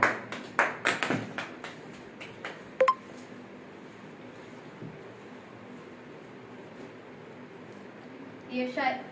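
A church congregation gives a short burst of sharp claps in welcome, sparse and fairly close. The clapping fades into quiet room tone, and a brief flurry of sound follows near the end.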